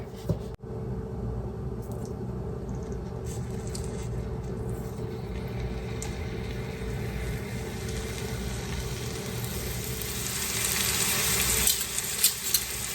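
Marinated chicken frying in a couple of tablespoons of vegetable oil for Indian chicken tikka masala: a steady close sizzle that swells louder near the end, with a few small clicks and pops.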